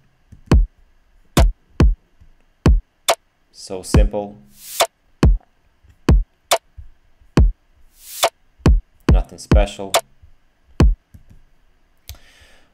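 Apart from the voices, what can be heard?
drum section of electronic track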